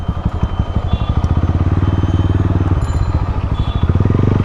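A Lifan KPT 150 V2 ABS, a 150cc motorcycle, being ridden, its single-cylinder engine thumping in a steady close rhythm that rises and falls with the throttle.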